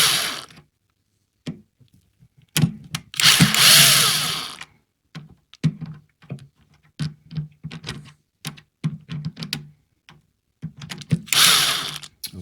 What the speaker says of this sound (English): that's why I have the cordless drill